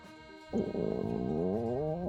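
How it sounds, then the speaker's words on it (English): Loud stomach growl from a video game, a sudden long rumbling gurgle that rises and wavers for over a second and a half, heard alone. "My thoughts are interrupted by a sudden loud growling sound."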